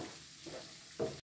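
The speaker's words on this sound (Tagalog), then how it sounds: "Kapag ganito na ang itsura ng ating coconut milk, hayaan lang ito hanggang sa lumabas ang natural na mantika nito at sa mag-brown ito." Coconut milk cooking down into latik in a pan, a faint, close, steady soft sizzle with a brief louder stir near the end, no voices.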